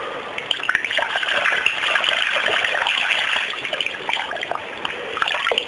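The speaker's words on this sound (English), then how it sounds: "I'm just going to rinse it off in there." A CPU heatsink is swished and rinsed in a basin of lukewarm water, giving close, continuous sloshing and splashing with small irregular gurgles and drips throughout.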